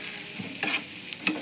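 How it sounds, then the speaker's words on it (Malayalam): Short scrapes and taps of a spoon stirring ingredients in a frying pan, set against a faint sizzle, three or four quick strokes, close and fairly quiet. "എന്നിട്ട് നന്നായിട്ട് ഇളക്കി കൊടുക്കുക."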